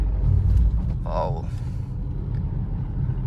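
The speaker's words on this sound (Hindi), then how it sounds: "सिटी मोड में जो है भाई देखिए 20 की स्पीड है गाड़ी की और तीसरे गियर में भी आराम से भाई पिक हो रही है" Tata Altroz hatchback pulling along in third gear at about 20 km/h in city drive mode, a low steady cabin rumble and road drone heard from inside, with a brief voice partway through.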